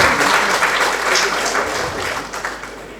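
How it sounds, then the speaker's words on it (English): Audience at a medical profession induction ceremony applauds its parents: dense, sustained clapping throughout, loud and close, with faint voices mixed into the crowd. "Please, may we give a resounding round of applause to our parents."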